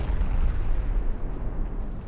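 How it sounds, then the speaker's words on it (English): A dense, rumbling explosion from an APS blowing up during a pre-dreadnought naval battle game, a continuous loud low roar lasting about two seconds with no speech. "I think an APS just blew up"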